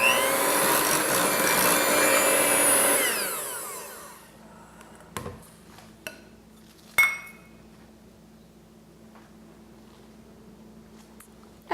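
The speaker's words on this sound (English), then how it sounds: "This is the 8-ounce package. So we're going to beat that." An electric mixer beats an 8-ounce package of cream cheese with powdered sugar, a loud steady whir for about four seconds that then cuts off, followed by a few scattered clinks of utensils against a bowl.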